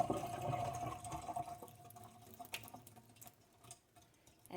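Water draining from a jar of soaking buckwheat seeds, a gurgling pour that is strongest at first, then tapers off into scattered drips and trickles.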